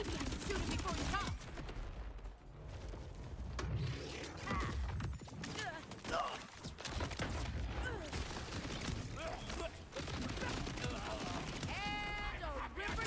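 Rapid bursts of automatic weapon fire in The First Descendant, a sci-fi looter shooter, crackling steadily across the whole stretch amid dense game effects and mechanical clatter, with a player talking over the action.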